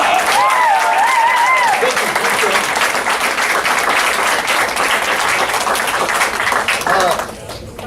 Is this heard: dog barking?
no